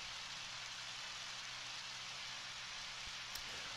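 Rainfall in the game Undertale, a gentle continuous patter and hiss of drops, quiet and uniform, with a faint tick near the end and no voices.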